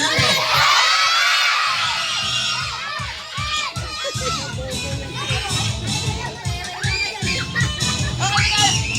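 A crowd of children at a birthday party shouting and cheering together, loud and chaotic, with excited whoops rising above the din.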